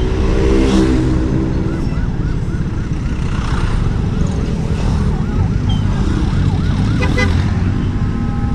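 An ambulance siren wails at night in San Juan, Batangas, in repeating rising and falling tones over steady traffic rumble, loud and fairly close.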